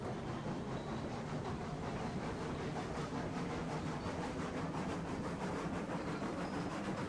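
A steam locomotive in the train game Railroads Online is worked up to speed with regulator and reverser, giving a steady, dense rolling rumble and hiss that continues evenly throughout with no talk.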